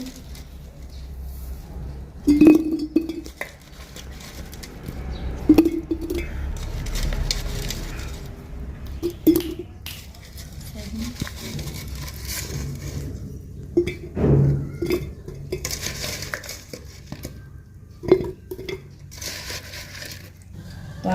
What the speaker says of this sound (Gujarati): હવે આપણે એક આ રીતની કાચની બરણી લઈશું અને આપણે તેમાં ભરી લઈશું